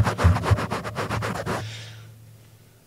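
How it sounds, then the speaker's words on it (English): Fingertips rubbing and tickling a microphone grille to test it: a quick run of close, loud scratchy rustles for about a second and a half, then a fading hiss. "Basically, you just tickle the mic."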